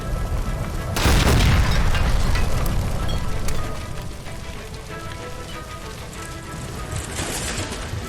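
A gas line by a stove explodes in LA Noire, a sudden deep boom at close range that swells into a roaring rumble for a few seconds, then settles into a lower crackling hiss.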